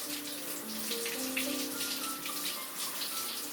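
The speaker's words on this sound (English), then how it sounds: "Let me rinse my knife off here." A running kitchen tap streams steadily while a Nakiri knife is rinsed under it at a home sink, a continuous close splashing wash with no speech over it.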